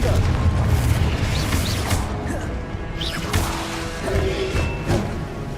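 A Confringo spell blast in the Hogwarts Legacy video game: a dense, booming crash with whooshing impacts and debris, loud and sustained over a rumbling battle mix.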